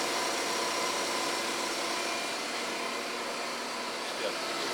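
A Sharp Supertec SPC-12 centerless grinding machine runs steadily with a smooth, loud, broadband whir and hum, close by, with no break across the short stretch.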